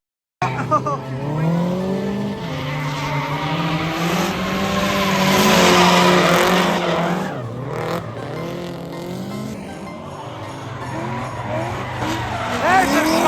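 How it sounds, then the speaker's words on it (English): A convertible Nissan S13 drifts in cold weather at a drift event, its engine roaring and tires squealing loudly and continuously at close range, with voices and cheering mixed in throughout. "that must suck drifting in the cold in a Vert S13"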